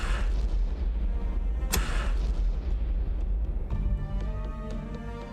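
Naval guns firing a shore bombardment in the World War II sea game War On The Sea, heavy booms rolling under a constant low rumble, one sharp blast standing out, then a droning engine-like hum near the end.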